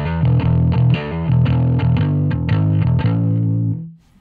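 A bass guitar runs through a distortion drive effect in the Genome plugin, a thick, gritty riff of repeated low notes that rings out and then fades to silence.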